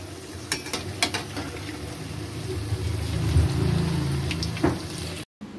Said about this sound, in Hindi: अलट पलट करके सेक लेते हैं मीडियम फ्लेम पर